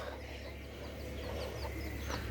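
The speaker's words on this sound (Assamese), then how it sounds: "মুৰ্গী দেখোন সোমাইছে ভিতৰত" A chicken clucks softly in a vegetable garden planted with radishes and leafy greens, giving a few faint, scattered clucks over a steady low background hum with no talk.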